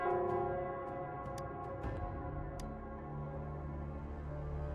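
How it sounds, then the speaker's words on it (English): The Nell Squares bell in Wuthering Waves rings out with a sustained, resonant tolling, its long humming overtones lingering steadily under a few faint ticks. "It's the Nell Squares bell."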